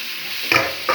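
Fish frying in a pan gives a brief steady hiss, then two quick scraping stirs close by, one around the middle and one near the end.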